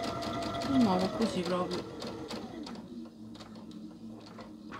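A sewing machine runs a straight stitch with matching thread while making a fabric basket, its rapid mechanical whirring and needle ticking running steadily and close under a person talking.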